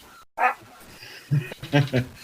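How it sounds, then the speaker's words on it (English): A pet dog in the next room gives a few short, muffled barks and yips, spaced unevenly over about two seconds, quiet and slightly distant. "That's my dog in the next room."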